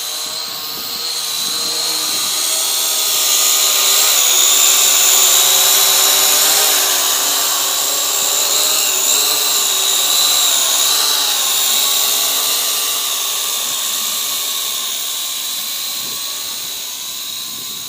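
A Syma X8SW quadcopter carrying a G-2D gimbal and Yi 4K camera, with modified battery and landing gear, holds a steady high motor whine nearby that swells and eases slightly as it flies, with no talking.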